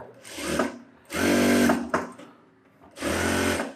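A sewing machine stitches around a blouse front cup in three short close bursts of fast whirring, with quiet gaps between runs.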